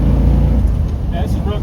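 1955 Ford Fairlane engine with a rebuilt Holley 4000 carburetor, a loud, close, low rumble that rises slightly near the end, with someone talking over it.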